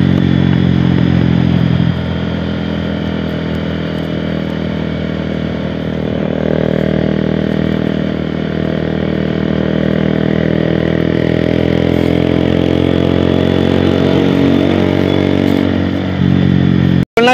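A Bajaj Pulsar 150 motorcycle engine runs steadily and close by, holding a loud, even idle with slight shifts in pitch, and no voices over it.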